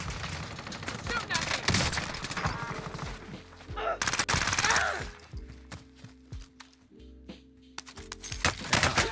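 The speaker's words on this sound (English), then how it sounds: "Stop shooting me, you bastard." Gunfire rattles in the battle royale game Warzone with rapid automatic bursts and scattered single shots, loud and close, pausing briefly before another flurry, while a player talks over parts of it.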